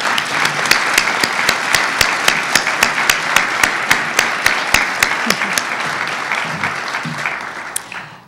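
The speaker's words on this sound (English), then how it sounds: "Please join me in applauding these outstanding student artists." Steady audience applause for student artists at a school MLK tribute event, dense clapping with sharper individual claps standing out, continuing throughout before thinning at the end.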